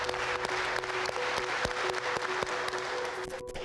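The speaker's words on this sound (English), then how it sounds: "We'll give you a nice clap, and once you hear the rhythm going, you show it to us." An audience claps together in a steady rhythm, with even, sharp beats rising from a broad wash of applause in a large hall.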